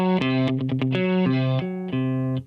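A distorted electric guitar plays a dissonant tritone interval in a quick metal-style riff, several short chopped notes and restrikes, close and loud with gritty sustain before cutting off.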